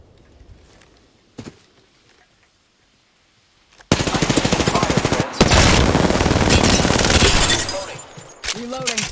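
Rapid automatic fire from the R-99 submachine gun in Apex Legends, a loud continuous burst of fast shots after a quieter opening with faint movement, cut briefly then resuming until the magazine runs dry.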